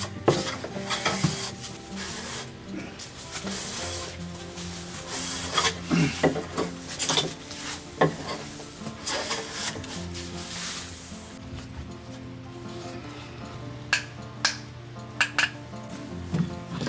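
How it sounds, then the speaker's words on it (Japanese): A Japanese hand plane (kanna) shaving oily hinoki cypress on a kitchen back counter, heard as repeated close rasping strokes with sharp hissing swishes, followed by quieter scattered scraping and clicks, with no talk. "枝というかね、出節の部分もカンナで割と楽に削れるんですよね。"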